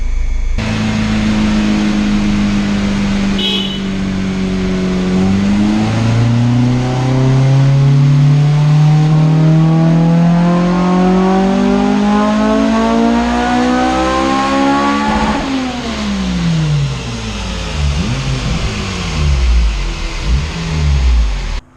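A Honda EP3 with a swapped K20A2 engine drives and revs hard, its loud engine tone sweeping up through the gears in long climbs, then falling and rising again, close and continuous with no talk.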